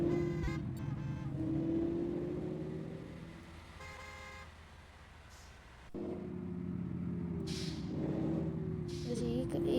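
A KSRTC bus in the Bus Simulator Indonesia video game climbs a mountain ghat road toward Ooty, its engine droning steadily and close, swelling and easing, with a short horn toot among the noise.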